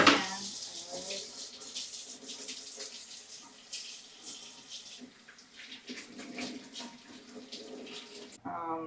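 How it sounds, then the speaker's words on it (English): A kitchen tap runs steadily as hands are washed beneath it, a continuous splashing water sound at fairly low volume with some faint voice in the background. "Okay, wash my hands."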